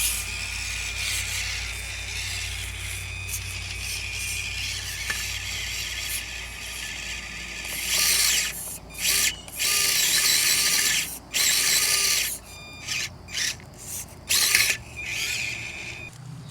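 An RC crawler with an Injora motor straining to climb a slick slope, a continuous whirring electric motor and gear drive that cuts in and out in short bursts near the end, close up with no talking.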